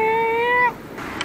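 A single clear, high cat meow at a beach in Mariveles, Bataan, held briefly then cut off, followed by faint background noise.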